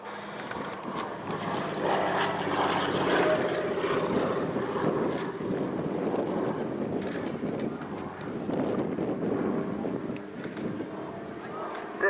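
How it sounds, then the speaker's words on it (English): A de Havilland Beaver float-plane converted to electric power flies past at an air show, a steady broad rushing drone that stays loud across the pass, mixed with wind buffeting on the microphone. "It's a float-plane Beaver with an electric engine."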